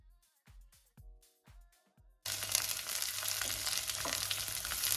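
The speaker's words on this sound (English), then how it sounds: "Now that you started to hear a sizzle" Intermittent soft tapping gives way to a loud, steady crackling sizzle of food frying in a pan, continuous and close.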